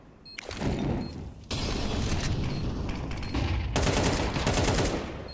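Pistol gunfire during a Counter-Strike match at an esports event, with loud rapid shots and bursts crackling continuously throughout, with no talk.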